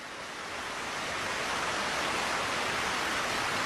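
A steady, broad rush of gushing water pours continuously, loud and close, growing slightly stronger, with no voices.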